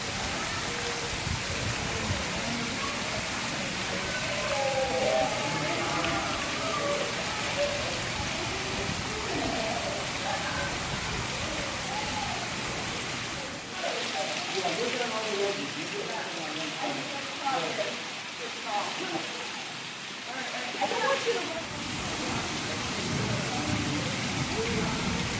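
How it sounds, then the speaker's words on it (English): Simulated rainstorm inside a zoo's rainforest exhibit, a dense, continuous downpour hiss filling the space for the whole stretch, with faint voices murmuring beneath it. "in here every 12 minutes, it storms"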